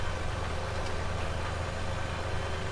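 Steady idle of a tractor engine in Farming Simulator 17, a continuous low, even drone holding the same level from start to finish with no voices.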